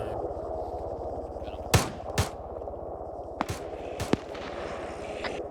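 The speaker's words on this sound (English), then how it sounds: "The gunshots are drawing them out." Several sharp gunshots ring out in scattered bursts in Arma 3 over a steady mechanical background hum, some close and loud, others quicker and lighter.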